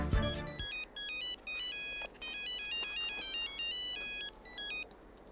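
A telephone ringtone repeats in steady electronic bursts with short gaps between them, loud and close, heard alone in a Bengali household scene.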